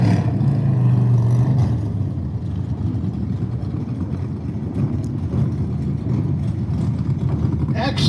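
Drag racing engines at a Hot Street racing event on a drag strip: a steady, loud low rumble of engines running continuously beneath a public-address announcer talking throughout.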